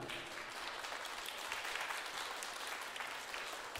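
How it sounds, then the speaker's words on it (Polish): An audience gives steady, sustained applause for guest folk musicians, including a cimbalom player, at a Christmas carol concert, an even wash of clapping throughout at a moderate distance. "Ogromne oklaski dla nich."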